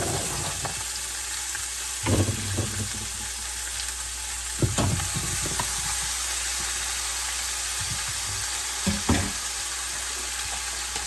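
Vegetables are tipped into a pot holding browned bits left from searing a roast for pot roast, sizzling steadily while a spoon scrapes and stirs in a few distinct bursts spaced a few seconds apart.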